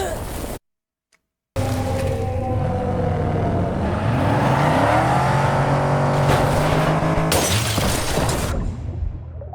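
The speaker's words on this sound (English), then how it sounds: "You break the glass." Glass breaking in Starfield, a bright crash near the end after a long rising engine-like whine and game ambience, following a brief silent gap.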